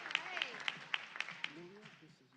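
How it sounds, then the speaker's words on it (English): A few faint, evenly spaced claps at a school board meeting honour a student's outfit, with a quiet voice speaking underneath before the clapping trails off. "Let's give her a round of applause for her outfit."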